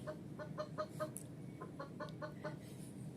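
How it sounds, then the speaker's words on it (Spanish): A chicken or hen clucks in a sound effect from a smart speaker animal sounds game: a quick series of short clucks, a brief pause, then another run, steady and moderately loud without speech. "sonido de pollo."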